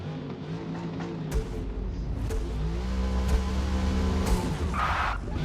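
A drift car spinning its tires on the Nürburgring, engine roaring loud and steady while the revs climb and settle, with the tires squealing under the engine noise.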